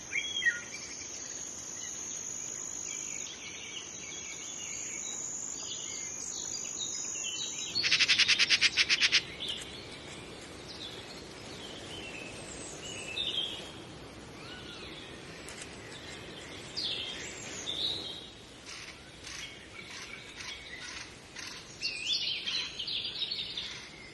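Insects and birds fill a hedgerow with sound: crickets keep up a steady high chirring, and scattered birdsong and chirps rise above it, including a brief loud burst of buzzing, all outdoors and at moderate distance, with no voices.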